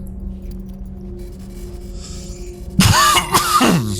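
A character coughs in the video game Wasteland 2: Director's Cut, a short burst of a few harsh coughs near the end, following a quiet stretch of low ambient game hum.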